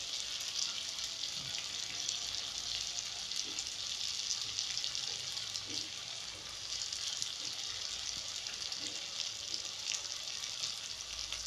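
Tomato and spices fry in oil in a pan for a potato and pea dry curry, with a steady close sizzle and crackle and a few soft stirring taps underneath throughout.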